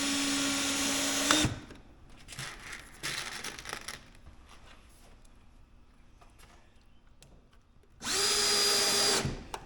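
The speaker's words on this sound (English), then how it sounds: "now we're going to put some of these number 6 1/2 inch screws in here." A power drill drives number 6 half-inch screws while sealing crawl space vents, with a high whine that winds down into rattling handling. A second burst of drilling comes near the end, close by.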